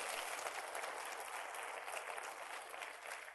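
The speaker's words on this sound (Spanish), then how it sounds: "Oh, apláudale al Señor." A church congregation claps together in sustained, dense applause that stays loud and even from start to finish, with no talking over it.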